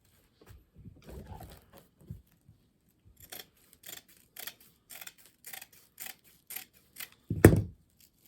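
Scissors snipping through three stacked colours of Christmas deco mesh into six-inch lengths, a series of short crisp cuts spaced about half a second apart, then one louder thud near the end.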